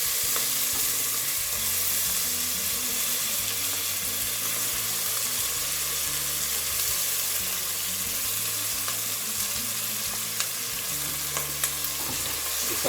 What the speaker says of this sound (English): Now I'm gonna put some chopped tomatoes in there.